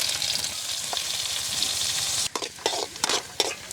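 Chopped onions sizzle steadily in hot oil, close up, with a few scraping stirs near the end breaking the frying hiss.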